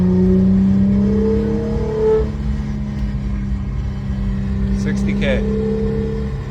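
Infiniti G35 with a replacement VQ35DE V6 pulls along the road, its engine droning steadily and rising in pitch as it revs, heard close from inside the cabin with a brief high tone partway through.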